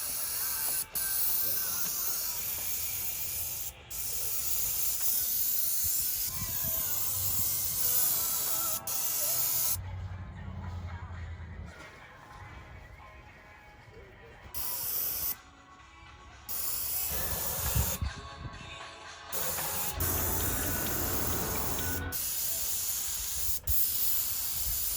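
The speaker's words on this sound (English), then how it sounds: "Spray painting goes really fast." Long stretches of steady, loud spray hiss from a paint sprayer on a house exterior, broken by several short pauses and a few sharp clicks of the trigger.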